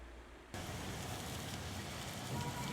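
Heavy rain falls on the streets of Manaus, starting abruptly as a loud, dense, steady hiss of drops hitting pavement that continues unbroken and swells slightly toward the end.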